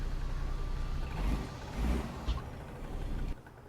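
A Cummins CM870 diesel engine in a T600 truck in American Truck Simulator drones with a steady low rumble and hiss, heard through an open window, with a brief air-brake-like release near the end and no talking.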